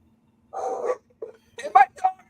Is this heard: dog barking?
yes